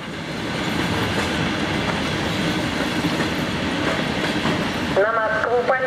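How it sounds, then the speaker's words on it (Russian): A high-speed train rushes past a station platform with a loud, continuous rumble and faint rail clatter. A voice comes in briefly at the very end. "По первому пути следует высокоскоростной поезд."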